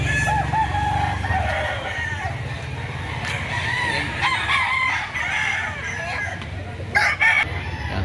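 Roosters and stags crow repeatedly at a busy chicken market in Lipa City, Batangas, with loud overlapping calls, clucking and crowd murmur throughout, and people talking in the background.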